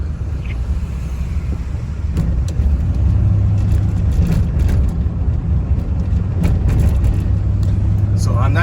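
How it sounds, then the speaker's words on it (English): Cars wait in a long line at the Tijuana border crossing, engines rumbling low and steady with occasional revving swells and passing traffic noise, while people talk nearby. "See all those cars right here? They're lining up to cross."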